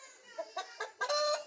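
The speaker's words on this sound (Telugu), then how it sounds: "చాలా అంటే చాలా మంచి పుంజు" A nine-month-old rooster on a farm in Khammam, Telangana, clucks close by in a quick run of short, nasal calls that build into a longer drawn-out cluck.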